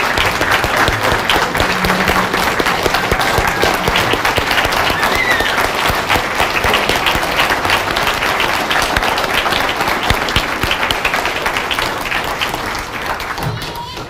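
An audience applauds the Lincoln Fire & Rescue recruit academy class 21-2 at a graduation ceremony, loud, dense, sustained clapping across the whole stretch with some crowd noise, fading slightly at the very end.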